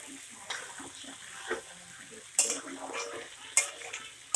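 Masala being fried and stirred in oil in a pan, a soft sizzle broken by sharp metallic scrapes and clinks of a spoon against the pan, close, with no talk.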